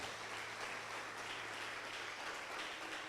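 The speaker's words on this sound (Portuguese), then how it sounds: "Dê uma salva de palmas para Jesus" A church congregation applauds for Jesus during a sermon, a soft, steady wash of clapping heard at a distance with a low hum beneath it.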